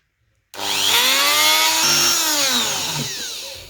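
A power drill whines into the plastic of a Zurg action figure, starting abruptly and holding a loud steady grind whose pitch sags and rises under load for about three seconds.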